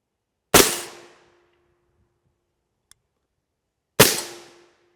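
Two M855A1 rifle rounds are fired at a body armor plate outdoors, each a single sharp, loud crack with a ringing metallic tail, separated by several seconds of near silence.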